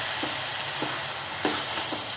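Coriander leaves sizzle in oil over a medium gas flame, a steady crackling hiss with a few soft stirring scrapes on top.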